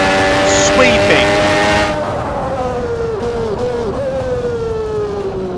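A 1992 McLaren MP4-7 Formula 1 car engine in the Assetto Corsa racing game gives a loud, close, high-pitched whine with layered harmonic tones that shift and drop in pitch as the revs fall and waver.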